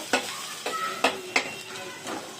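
Onion fries in a pan as the base for a fish curry, a steady sizzle broken by four or five sharp stirring scrapes at uneven intervals.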